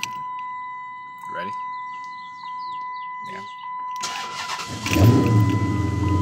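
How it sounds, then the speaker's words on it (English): A tuned 2006 Chrysler 300C SRT8 fires up from cold, heard from the interior: a steady chime and brief voices, then the starter cranks and the engine catches with a loud, deep rumble settling into a rough idle. "This is a cold startup in the interior."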